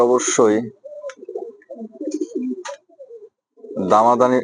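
Low, soft coos of King pigeons at a pigeon farm repeat through the middle, with a voice speaking briefly at the start and again at the end.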